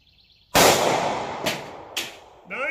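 A 9mm Hornady 147 grain XTP round fired into gel from a short-barrel pistol, one sharp close blast with a long ringing decay and two quick metallic clanks after it.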